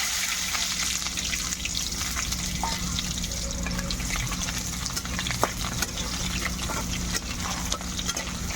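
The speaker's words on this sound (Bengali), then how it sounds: "কয়েক সেকেন্ড আমি ফোড়নটাকে ভেজে নেব।" Dried red chillies, bay leaves and chopped onion frying in hot oil as a tempering for a Bengali jackfruit curry, giving a dense, continuous loud sizzle with small crackles and stirring scrapes, and no voices.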